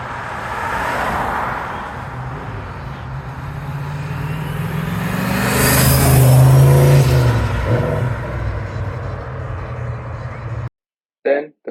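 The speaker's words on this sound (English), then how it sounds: "we drove the car around and the car drove awesome" A turbocharged 5.0-swapped Ford Capri drives by, its engine rising to a loud rev near the middle before dropping away, then cutting off abruptly near the end.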